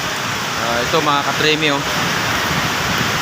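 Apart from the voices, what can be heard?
heavy rain and wind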